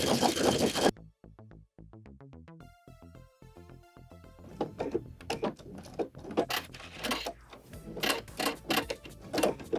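A sewing machine runs through jersey lace fabric in close, bursty stitching runs, starting with spaced mechanical ticks and building into rapid, uneven clattering passes with short pauses between them.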